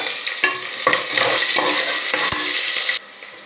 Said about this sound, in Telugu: పచ్చిమిరపకాయ, ఉల్లిపాయ, ఇది కొంచెం వేగాలి.